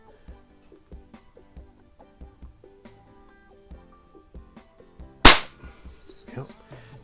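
A RWS Diana P5 Magnum .177 break-barrel spring air pistol fires a pellet, giving one sharp, loud crack near the middle, surrounded by quieter handling clicks and soft thumps.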